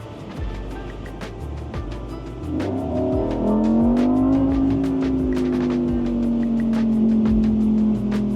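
A new Lamborghini idles low, then its engine revs up hard in a rising, sustained roar as it accelerates in front of the dealership, loud and close.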